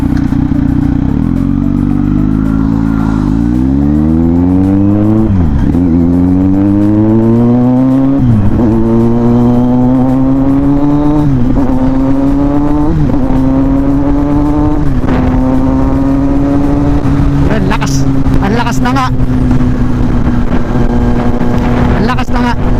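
A Kawasaki Z900 motorcycle in sports mode accelerating hard on an expressway, the engine note rising through gear after gear with sharp drops at each shift, loud and close over wind rush, with brief speech near the end.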